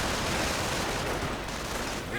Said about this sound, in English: they are taking quite a few shots from the Panzergrenadiers inside the church